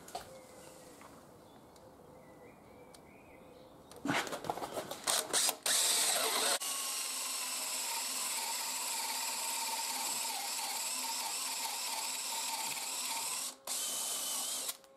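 Quiet background sounds, then a few short bursts of a power drill boring wood with a 35mm bit before it settles into a long, loud, steady drilling whine that briefly stops near the end.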